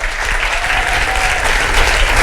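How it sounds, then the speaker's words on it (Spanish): A studio audience on a Spanish TV show about 1980s television applauds loudly and steadily as guests come down the stairs. The dense clapping runs unbroken throughout, with no voices over it. "para que podáis de verdad aplaudirles"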